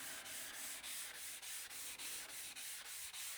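A 120-grit sandpaper block rubs back and forth across a sharpening stone in a steady rhythm of about a dozen close, loud rasping strokes, each separated by a brief pause.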